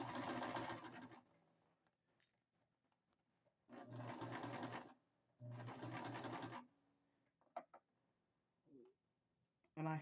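A sewing machine stitches the seam of a fabric bucket hat in three loud bursts of whirring, separated by pauses filled with small clicks and handling noises as pins are pulled out.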